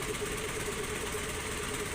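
A Honda Activa scooter engine, which has a battery charging problem, runs at slow speed, giving a steady, even drone with a faint rattling texture and no pauses.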